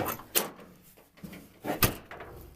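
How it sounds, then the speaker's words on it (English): Car door on a G-body El Camino, heard as two separate thumping clunks about a second and a half apart, close by with no talking. "Typical G-body door."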